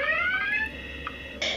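A house alarm sounds in a game-show house setting, a steady high electronic tone with harmonics holding for about a second and a half, then a brief louder burst near the end over low background noise.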